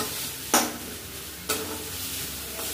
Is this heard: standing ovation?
no